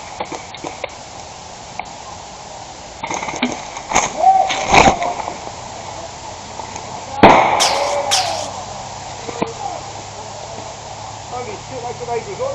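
An airsoft grenade bursting during an outdoor game with ghillie-suited snipers: a sharp pop and crackle, then a second louder burst a few seconds later, with players shouting and talking around it.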